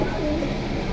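A silver pigeon cooing, one brief soft throaty coo heard close up over a low background hum.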